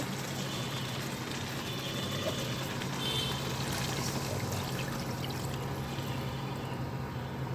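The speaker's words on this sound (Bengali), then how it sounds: "কষানো শেষ, এখন আমি ঝোল দিয়ে দিব।" Broth pours into khichuri cooking in a pot, a steady loud wash of liquid and sizzling that runs unbroken throughout, with no voices.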